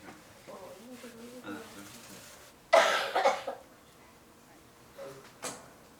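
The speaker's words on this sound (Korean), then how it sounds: "오늘 또 기침 소리가 심상치 않습니다." A couple of muffled coughs from an ill husband in a quiet room at home, with faint soft sounds and a low voice before them and a few quieter coughs later.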